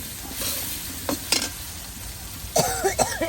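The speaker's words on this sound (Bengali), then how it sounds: "ফুলকপি আর গাজর আলু ভাজির জন্য তেলে এই যে পেঁয়াজ কাঁচামরিচ আর একটু হলুদ দিয়ে দিচ্ছি" Onion, green chili and a little turmeric hit hot oil for a cauliflower, carrot and potato fry, giving a close steady sizzle with scraping stir sounds and a brief throat-clearing noise near the end.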